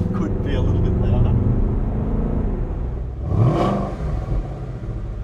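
A 2016 Ford Mustang GT V8 rumbles deeply, building to a louder rev midway before easing back, heard close with people talking over much of it.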